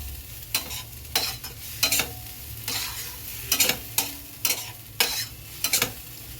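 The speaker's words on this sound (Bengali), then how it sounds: "আমি এর মধ্যে একটু অল্প নুন দিয়েছি, দিয়ে পেঁয়াজ আর মিশ্রণটাকে ভালো করে একটু কষাচ্ছি" An onion and poppy seed mixture fries in a pan with a low sizzle under repeated, rhythmic stirring scrapes, about a dozen strokes spread evenly across the clip.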